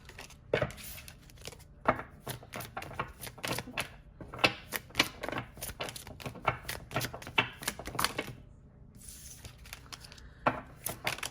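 Cards being shuffled by hand, close up, in quick bursts of papery riffling clicks with brief pauses between, and no talking.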